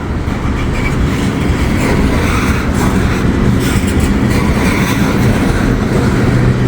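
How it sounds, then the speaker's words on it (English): Freight train of full tank cars bound for a Procter & Gamble plant rolls past close by, a loud continuous rumble with steady wheel clatter and no voices. "All these are full tankers."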